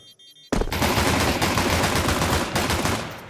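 Rapid bursts of Counter-Strike 2 gunfire during a tournament match rattle loudly and continuously, sharp automatic shots packed close together after a brief quiet start.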